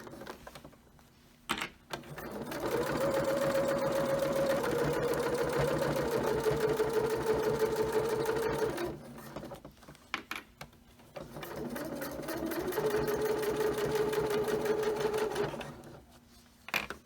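A sewing machine stitches an all-in-one cloth diaper in two long, steady whirring runs separated by a brief pause, with a few clicks and knocks at the starts and stops.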